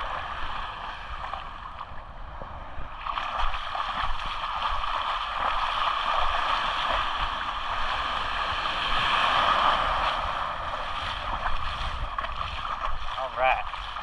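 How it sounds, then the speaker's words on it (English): Ocean waves breaking at the shore on a beach in the Outer Banks, a steady broad wash of surf that swells after a few seconds and holds loud and close throughout, with a faint voice underneath. "these waves are breaking right here at the shore"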